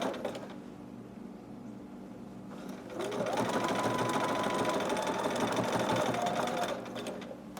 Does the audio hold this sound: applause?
no